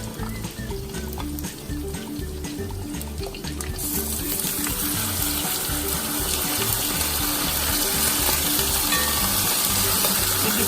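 Chicken sautéing in a pan for Filipino-style chicken curry: a loud, dense sizzle swells up after a few seconds and holds steady, with a faint rhythmic knocking beneath it throughout.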